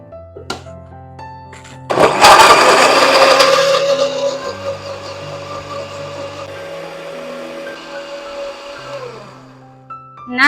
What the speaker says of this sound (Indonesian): Ini mau Bunda blender.